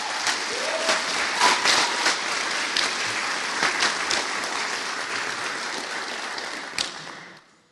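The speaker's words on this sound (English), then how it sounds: "everybody lift their hands and clap for Mike for this" Audience applause at a community engagement gathering for the Dokis First Nation, a steady wash of many hands clapping that holds for several seconds before tapering off at the end.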